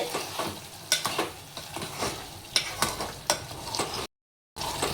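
Chicken sukka bubbling in a pan as a spoon stirs it, with repeated scraping clinks and a soft sizzle up close, and no voices.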